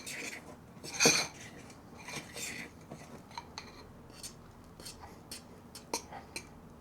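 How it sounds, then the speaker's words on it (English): A metal fork clinks and scrapes against a bowl while stirring thick protein pancake batter, with irregular sharp taps and scratches, one louder clatter early on, close and fairly quiet. "I'm supposed to use something else to stir this, but fork will do. Probably scratching the hell out of my nice bowl here."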